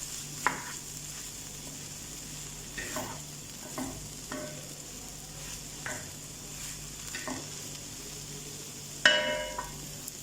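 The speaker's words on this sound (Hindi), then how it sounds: "अब इसे अच्छे से मिक्स कर देना।" Hakka noodles with spring onion tossed and stir-fried in a pan make a soft steady sizzle broken by repeated scraping stirs and a sharper metallic clatter near the end, no talking.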